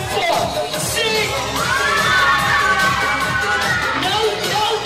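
A group of children screams and shouts together instead of singing, a loud, dense, continuous crowd of young voices filling the whole stretch.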